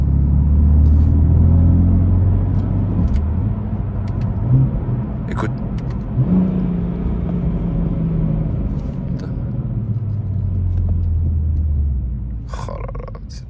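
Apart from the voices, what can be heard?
BMW M3 Competition engine while driving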